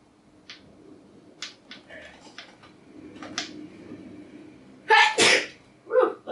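One sharp, loud sneeze bursts out close by, followed by a short exclaimed reaction, after quiet ticking and soft speech sounds in a still setting.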